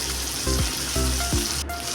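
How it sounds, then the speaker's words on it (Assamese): Chopped eggplant and turmeric frying in a pan, a steady close sizzle with repeated stirring scrapes, no voices. "এতিয়া অলপমান হালধি দি লৰাই দিলোঁ আৰু কাটি থোৱা বেঙেনাখিনি তাত দি দিলোঁ"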